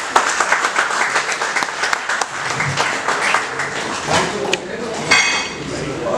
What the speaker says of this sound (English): Can we have a big clap for ma'am?